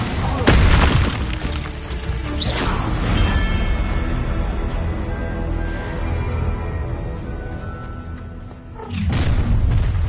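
Spell blasts in Hogwarts Legacy gameplay: a loud, booming explosion opens, followed by a sustained roaring, crackling rumble with scattered bursts and a second heavy boom near the end.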